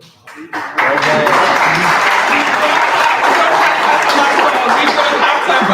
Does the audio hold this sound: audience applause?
yes